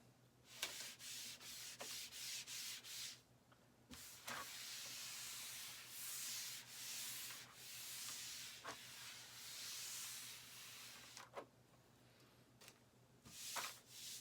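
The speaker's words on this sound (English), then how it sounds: "Tack cloth is really just cheesecloth with a little bit of wax applied to it." A wax tack cloth wipes over a wooden model railroad scene in soft, close rubbing and swishing strokes, hiss-like and fairly quiet, broken by short pauses and light taps, with no speech.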